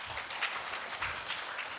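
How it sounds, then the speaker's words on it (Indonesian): Students clapping at the close of a post-election dialogue held at Universitas Halu Oleo (Laki Dende) in Kendari, a steady patter of applause from a moderate-sized crowd that holds evenly through the whole short stretch. "tepuk tangan dong ya"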